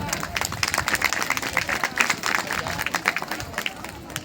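An audience at a gathering of a national assembly claps together in a lively, uneven round, claps dense and close with crowd murmur mixed in throughout.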